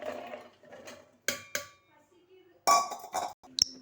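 Several sharp clinks and clatters of carrot pieces dropping into a metal mixer jar, separated by brief pauses, with a faint voice murmuring early on.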